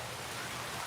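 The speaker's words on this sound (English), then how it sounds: "Now the rain's coming." Rain falls during a tropical storm at Animal Kingdom Lodge as a brief, steady broadband hiss with no distinct drops standing out.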